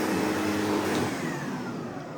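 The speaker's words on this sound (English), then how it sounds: "I am seriously impressed with this vacuum" A Dyson DC14 commercial vacuum cleaner running on carpet, a loud, close, steady whirring roar that holds for the whole stretch with no talk.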